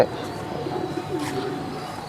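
Madrazi pigeons coo softly and repeatedly in a low, rolling rhythm, close by, over a steady background murmur.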